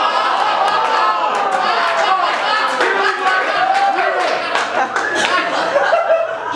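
An audience claps in scattered bursts, mixed with laughter and chatter, while a host talks over the noise at a comedy show.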